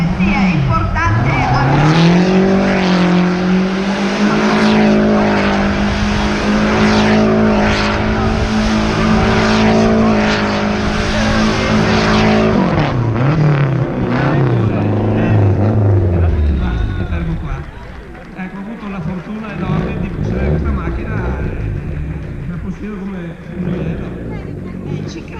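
A Lancia Delta S4 rally car driven by Miki Biasion roars loudly nearby, its engine rising and falling through revs, then fades away into a quieter background where voices speak.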